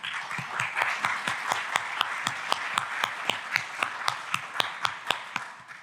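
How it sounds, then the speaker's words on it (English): An audience applauds to welcome a speaker onstage at a Kubernetes tech talk, a dense wash of clapping with regular sharp claps standing out, steady for about six seconds before tapering at the end. "Please welcome with a big applause"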